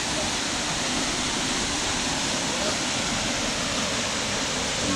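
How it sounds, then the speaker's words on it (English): Rain-fed water spills down a small waterfall beside a trail, giving a constant, even hiss and rush close by with no breaks. "There's water coming down"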